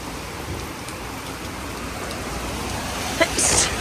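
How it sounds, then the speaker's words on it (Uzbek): Heavy summer rain pours steadily in New York, a dense hiss of downpour on surfaces with a brief splash or knock near the end. "Qaranglar qanaqa yomg'ir quyapti"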